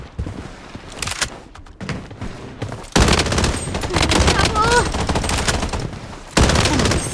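FN F2000 rifle fire in the shooter game Blood Strike, loud rapid automatic bursts crackling almost continuously, with a brief lull and then sustained fire resuming, along with other game effects.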